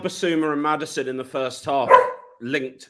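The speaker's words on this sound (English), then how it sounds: "Sorry, that's my dog." A pet dog barks a few times at home, with a short bark rising above ongoing conversation near the middle, while people keep talking around it.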